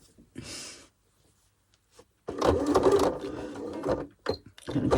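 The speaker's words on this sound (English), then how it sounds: "match up, and over sew that little middle bit, so you don't leave a hole" Scrap fabric being machine-sewn to close the middle gap of a journal pouch: a quiet pause, then a loud, steady burst of close stitching lasting about two seconds, followed by short stop-start runs.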